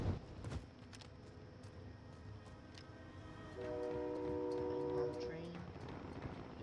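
A train in the Warzone video game sounds a sustained horn midway through, rising above busy in-game noise and gunfire-like clicks, while players talk.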